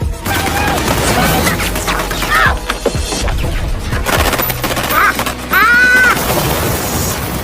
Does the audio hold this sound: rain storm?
no